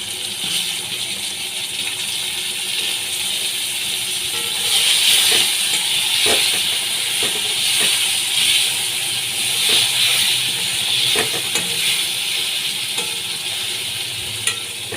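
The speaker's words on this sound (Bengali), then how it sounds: "এবার ভাজার মধ্যে আমি দুটো টমেটো কুচি দিয়ে দিচ্ছি" Chopped tomatoes frying in a pan with browned onions for a bhola fish curry, a steady loud hissing sizzle with occasional stirring clinks throughout, no talking.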